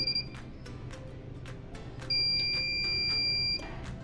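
A sanitary pad vending machine gives several short electronic beeps over a low hum as its green button is held for a reset, followed by a longer sustained high beep.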